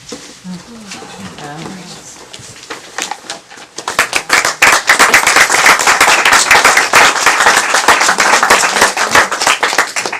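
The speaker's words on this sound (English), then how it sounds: "We're clapping for the truth, of course, and not the sadness of the story." A small audience at a banned books reading night breaks into clapping, starting with a few scattered claps under a voice, then swelling into sustained, close, brisk applause that continues to the end.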